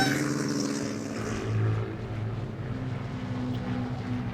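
An airplane in the mobile game Talking Tom 2 drones steadily with a propeller-like engine hum, continuous and fairly loud throughout, with no talk over it.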